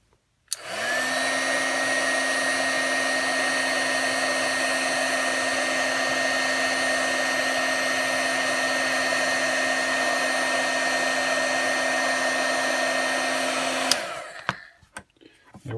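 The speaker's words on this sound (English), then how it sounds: "Now we'll heat up the heat shrink." A heat gun blows continuously to shrink heat shrink tubing over soldered wires on a winch controller, a loud, steady whirring roar with a constant whine that starts abruptly, runs about thirteen seconds, then cuts off into handling noise.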